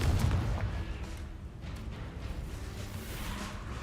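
A Confringo fire spell explodes in the Hogwarts Legacy video game, a loud booming burst that fades into a rumbling, whooshing tail.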